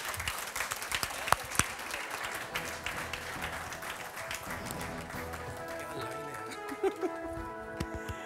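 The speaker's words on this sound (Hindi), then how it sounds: "आपकी तालियां मेरी मदद करें।" Steady applause from an audience fills the whole stretch, a dense patter of clapping with a few sharper claps standing out.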